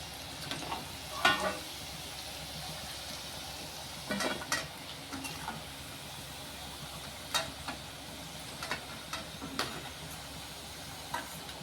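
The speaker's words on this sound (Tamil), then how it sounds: "கிழங்கு பொன்னிறமாக ஃப்ரை ஆயிடுச்சுங்க இப்போ அதை எடுத்துக்கலாம்" Elephant foot yam pieces fry in hot oil with a steady, quiet sizzle, while occasional stirring clinks and scrapes break through at irregular moments.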